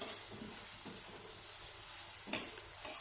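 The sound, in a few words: carrots stir-frying in a pan for fried noodles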